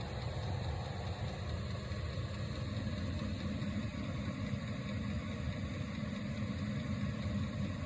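Brand-new diesel heater running on its low setting 2 in an RV bedroom, a soft, steady low hum and whir that continues unchanged throughout with no talk.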